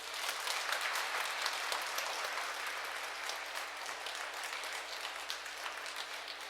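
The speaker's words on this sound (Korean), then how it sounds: "박수로 환영해 주십시오" A church congregation at a Sunday Mass applauds to welcome a priest on his feast day, steady dense clapping sustained evenly throughout at moderate distance with no speech.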